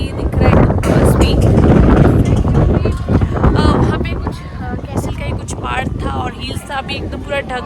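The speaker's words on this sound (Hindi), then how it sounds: "तो बहुत ठंडी हवा चल रही है" Cold wind gusts over a microphone in the clouded mountain air of Ba Na Hills, Vietnam, near the Lunar Castle, with heavy buffeting that eases later while a voice speaks under it.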